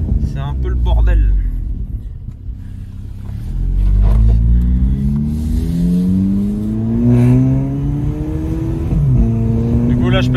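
A VW Polo 6 GTI Stage 3 with a loud exhaust idles and revs nearby, the engine rumbling and climbing in pitch in several swells, with a voice talking over it.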